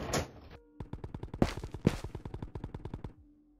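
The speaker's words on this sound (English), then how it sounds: "Hear all those gunshots?" Rapid bursts of gunfire in the video game Ghosts of Tabor, in a fast, even rhythm, with a couple of louder shots standing out, then a mechanical click and quiet at the end.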